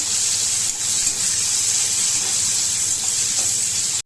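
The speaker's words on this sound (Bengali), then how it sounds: "এবার পেঁয়াজগুলো একটু লাল লাল করে ভেজে নেব।" Onions frying in hot white oil in a wok give a steady, close hiss and sizzle that holds evenly throughout, cutting off abruptly at the end.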